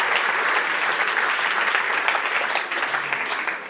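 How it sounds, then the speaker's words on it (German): Steady applause from an audience, a dense continuous patter of clapping that holds strong throughout, with no voices above it. "Dein Applaus."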